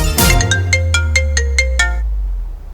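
A phone ringtone plays eight bright, evenly spaced tones after a call is placed back, loud and close, then cuts off into quiet, with no voices.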